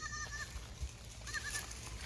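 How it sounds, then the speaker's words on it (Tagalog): Goats on a Philippine farm, native and mestizo crosses, bleat nearby in two short calls separated by a pause, over a low background rumble with no talking. "Ang healthy po ng kambing niya."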